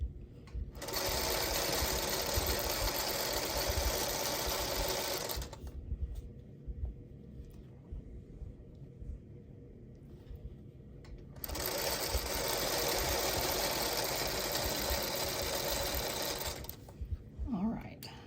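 A sewing machine runs fabric through for a spring basket quilt block, two loud steady whirring runs with a quieter gap between, close to the listener.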